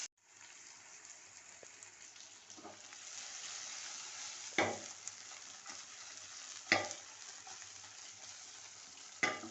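Stuffed okra sizzles steadily in a frying pan, with a few sharper scraping strokes from stirring at intervals; no talking.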